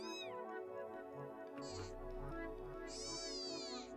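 A kitten screams and meows in a pained tone, with two high, drawn-out cries standing out loudly over steady background sound and a faint voice.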